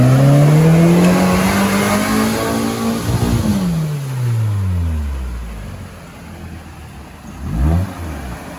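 A Chevrolet Niva off-road car with two air lockers drives through a forest, its engine revving and sweeping up and down in pitch as it accelerates and eases off, loud at first then fading before a brief surge near the end.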